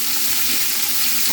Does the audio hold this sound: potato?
yes